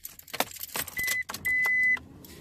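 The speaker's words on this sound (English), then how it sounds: "I got to turn the key on" A car's ignition key jingles and turns on, with a cluster of metallic key jangles and clicks followed by two steady electronic chimes from the dashboard, close and clear.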